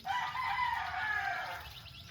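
A backyard rooster crows once in a long, drawn-out call, moderately distant and clear against quiet surroundings, the cry fading at the end.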